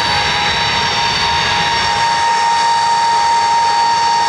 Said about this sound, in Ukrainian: Через декілька хвилин до міста прибуває Іл-76МД.